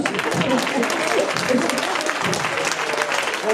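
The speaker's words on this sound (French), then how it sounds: "On peut l'applaudir aussi" A theatre audience at a local talent show breaks into dense, steady applause that fills the whole stretch without pause, with a few voices mixed in.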